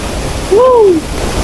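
A tiered waterfall with strongly flowing water makes a steady, broad rushing roar throughout, and a brief rising-and-falling vocal sound cuts in over it midway.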